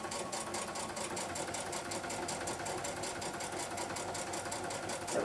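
A sewing machine stitching at a stitch length around 3.0 to 3.5, running steadily with a fast even needle rhythm, moderately loud and continuous with no talk.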